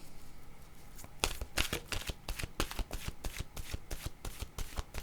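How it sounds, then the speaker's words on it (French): A deck of oracle cards is shuffled by hand, a quiet rustle giving way to a fast run of crisp riffling flicks close to the listener, with no talking. "Je vais demander une carte de mon oracle de l'âme intuitive"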